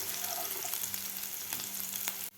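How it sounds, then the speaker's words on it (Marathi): Chopped green chili, garlic and ginger sauté in a hot pan over high flame for veg momo filling, giving a steady close sizzle with a few stirring scrapes, no talk, ending abruptly. "आपल्याला 1 मिनिटभर हे परतून घ्यायचं आहे"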